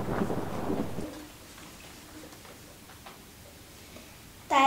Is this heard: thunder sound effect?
yes